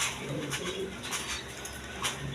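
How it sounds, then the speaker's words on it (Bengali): A pair of colored Raj Golla pigeons, sky-blue in tone, coos softly and repeatedly at close range, low rolling calls over a faint background hum. "এক পেয়ার কালারিং রাজগোল্লা কবুতর আছে আকাশি কালারের মধ্যে"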